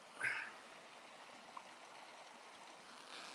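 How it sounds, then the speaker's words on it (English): Steady rushing water from a flowing creek fills the background, a continuous broadband wash with a brief brighter splash near the start. "We're listening to the creek, which basically sounds like a waterfall."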